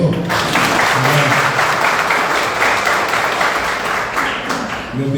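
A church congregation claps and applauds together in a dense, sustained burst, loud and close throughout, with voices faintly mixed in.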